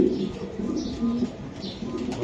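Racer pigeons coo in a low, throaty murmur at a pigeon dealer's loft, steady and fairly close over a busy background hum, with a faint chirp near the end.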